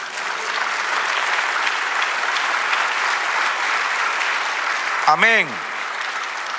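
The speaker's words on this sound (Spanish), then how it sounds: "Da un aplauso al Señor." Steady, sustained applause from a church congregation fills the clip, and near the end a pastor's voice briefly speaks over it in Spanish.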